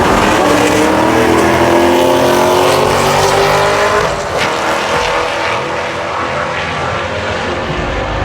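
A Mercedes-AMG race car engine roars loud and close, holding a steady, strained high-revving drone that dips slightly partway through, with no voices.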